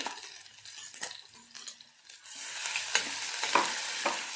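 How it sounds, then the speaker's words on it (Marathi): Ground masala paste fries in oil for Maharashtrian buttermilk kadhi, a quiet sizzle that swells in the second half, with a spoon scraping and clinking against the pan. "याच्यामध्ये मी वाटण केलेलं आहे तर याच्यामध्ये आपण तेलामध्ये फ्राय करून घेणार आहोत"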